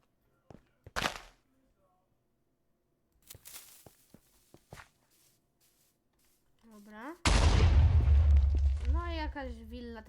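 A Minecraft TNT explosion from an unusual TNT variant: a loud, deep, sustained blast erupts near the end after a few scattered small clicks, with someone talking over the rumble.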